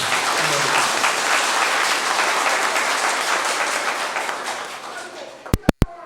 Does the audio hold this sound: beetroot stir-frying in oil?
no